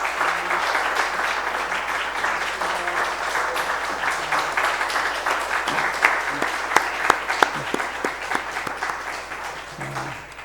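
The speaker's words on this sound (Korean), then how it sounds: "박수 한번 하시겠습니다." Congregation in a Korean Baptist church clapping after a baptism certificate is read, a steady dense patter of hands with a few sharper claps standing out, sustained for about ten seconds at moderate level.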